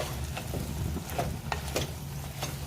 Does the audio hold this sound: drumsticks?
yes